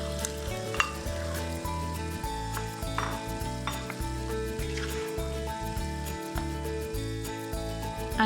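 Onions, spices, chilli and tomatoes frying in a pan for a chunky beef chilli, a loud steady sizzle with repeated stirring scrapes and clinks throughout.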